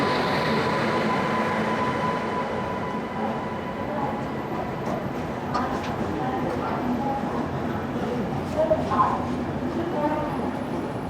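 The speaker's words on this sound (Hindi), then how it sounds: "तो ये हमारी ट्रेन" Maharashtra Sampark Kranti Express pulling out of Surat station, a steady low rumble and rolling rail noise heard from inside a sleeper coach, with faint background chatter.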